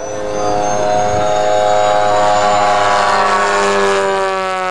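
A model aircraft engine at a model air show gives a loud, sustained, high-pitched drone as the plane pulls up and loops over the top. Its pitch rises and falls steadily with the manoeuvre, and a steady low rumble sits beneath it.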